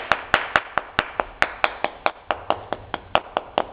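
A steady run of sharp knocks on a wooden boat plank, about four per second, close and fairly loud, each tap hollow and resonant like knuckles on thick wood.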